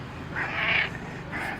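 A cat meows near a greenhouse, two drawn-out mewing calls close by, the first longer and louder, the second shorter and softer.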